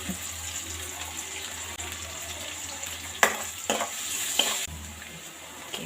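Steady hiss of onions and green chillies frying in oil, with a few scraping stirs and clanks partway through, no one speaking.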